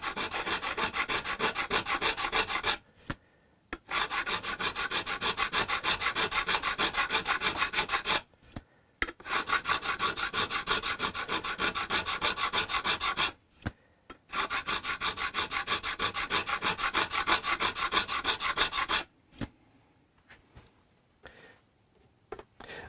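A diamond abrasive tool grinds steadily on a Hofner Galaxie guitar in long, even rasping strokes, broken by brief pauses, before fading into quieter scattered scrapes.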